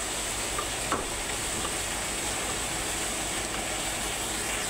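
Chopped onion, green chili and tomato sizzle steadily in hot oil in a pan as they are stirred, a constant soft frying hiss with a faint scrape of the spoon near the start.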